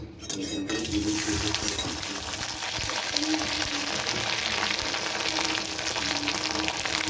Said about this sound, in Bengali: এবার আমি পাঁপড়টা ছেড়ে দেব